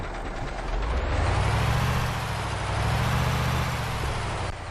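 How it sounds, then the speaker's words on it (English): Kamaz 5460 truck engine brake in Euro Truck Simulator 2: a steady, loud, rumbling roar with a deep low drone under a broad hiss, sustained without a break. "That 360 brake engine though sounds pretty cool."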